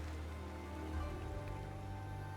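A downpour in Ninja Gaiden 4 falls over a ruined city, steady and faint, hissing softly with a low continuous hum beneath and no voices.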